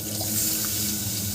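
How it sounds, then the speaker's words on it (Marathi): Water runs steadily into a cooking pan of tomatoes and green peas, a soft continuous pouring splash at moderate distance, alone without talk. "इथे मी पाणी घालून घेतलेलं आहे"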